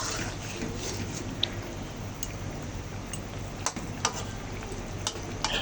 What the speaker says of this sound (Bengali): এখন এই যে তরকারিতে মাছগুলা দিয়ে দিলাম